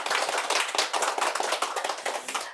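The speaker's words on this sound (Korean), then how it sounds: "열띤 강의를 해주신 신부님께 큰 박수 부탁드립니다." Audience clapping after a Catholic priest's lecture on the Book of Revelation, a steady burst of many hands applauding for a couple of seconds, then fading out at the end.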